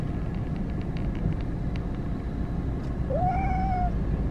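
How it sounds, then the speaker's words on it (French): A pet cat named Lagoon, being moved to a new home, lets out a single drawn-out, guttural meow over a steady low rumble of a moving vehicle. "Tu l'as déjà entendu miauler comme ça?"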